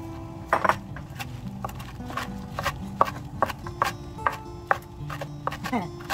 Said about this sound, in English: Wash basil and chop it roughly.